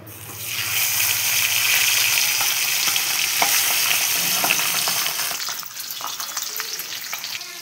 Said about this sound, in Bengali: আমি এবারে মাছগুলো এক এক করে ভেজে নিব। কড়াইতে তেল দিয়েছিলাম, তেল গরম হয়ে গেছে।